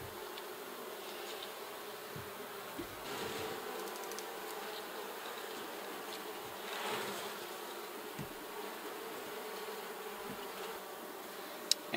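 Honey bees buzz steadily and close by during a beehive inspection. The hum holds at an even level throughout, with only faint handling noises underneath.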